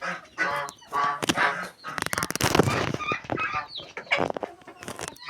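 A sick rooster and hens in a poultry yard, loud close clucking and crowing-like squawks in repeated bursts, with goose-like honks mixed in, alone without speech.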